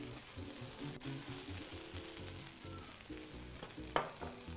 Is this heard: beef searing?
yes